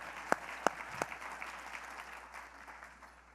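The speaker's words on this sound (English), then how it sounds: "I would really like to give a round of applause for Renee and the entire team that put this together" Applause from the audience at a credit union industry update conference, opening with a few sharp individual claps, then settling into a steady, moderately distant patter that gradually fades.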